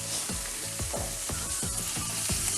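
Meat for Mersin tantuni sizzles loudly and steadily in a hot pan while it is sautéed, with repeated scraping stir strokes roughly every half second over the constant frying hiss.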